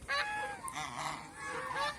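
A domestic goose settled back on its clutch of eggs gives a few loud, close nasal honks, spaced through the moment with no speech over them.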